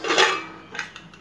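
A metal pressure cooker lid is opened after the cooker has whistled twice and cooled down. There is a bright metallic clank up front, then a few lighter clinks of metal against metal, close and fairly quiet.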